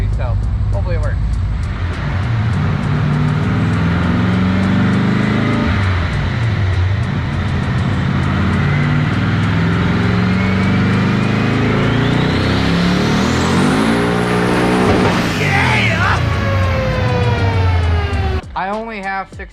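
A 1979 Pontiac Trans Am engine runs loud and steady on a dyno, with a dense roar that swells as the revs climb toward the end, then cuts off sharply.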